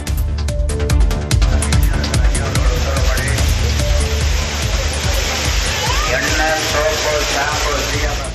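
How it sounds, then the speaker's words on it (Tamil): Heavy water flow at the Courtallam waterfalls in the Western Ghats, where tourists bathe: a loud, steady, broadband roar of falling water fills the whole clip, with faint voices and other sounds mixed in. "குற்றால அருவிகளில் நீர்வரத்து அதிகரித்துள்ள நிலையில் அருவிகளில் சுற்றுலா பயணிகள் குளித்து மகிழ்ந்தனர்"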